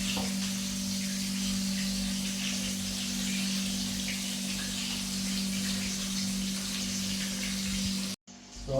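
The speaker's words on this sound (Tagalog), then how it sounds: "kumulo na po yung ating tubig" Water at a rolling boil in a cooking pot, a steady bubbling hiss with a low hum underneath, continuous and close before cutting off abruptly near the end.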